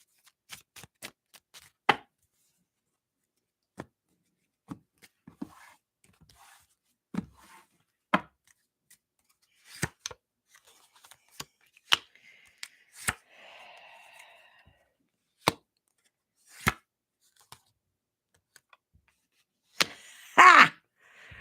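Tarot cards shuffled loosely by hand, heard as sparse, sharp snaps and taps spaced a second or two apart, close and quiet, ending in a short denser flurry.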